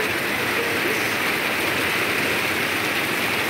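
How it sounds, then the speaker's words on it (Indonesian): Heavy rain driven by wind pours over the Jatigede reservoir, a loud, steady, unbroken hiss of drops with no voices. "Waduk Jati Gede dan sekitarnya diguyur hujan badag pisan"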